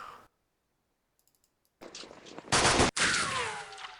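Machine gun fire in a WWII strategy video game set on the Western Front during Operation Sealion: after near silence, rattling bursts start, swell to a loud sustained volley, break briefly, then resume.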